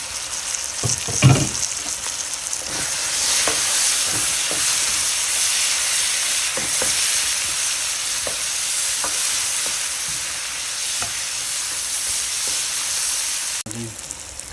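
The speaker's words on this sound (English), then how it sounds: "Fry it. Adding red and yellow onion." Red and yellow onion sizzling in a pan with bay leaves for a salmon steak biryani. It gives a loud, steady, close hiss that runs throughout, with occasional light stirring clicks and no speech.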